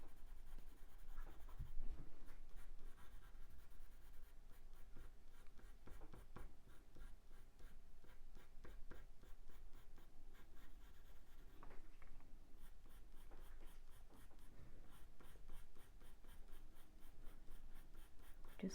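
Warm grey pencil drawing on paper, soft continuous scratching and scribbling strokes with a steady rhythm, close and fairly quiet, with no talking.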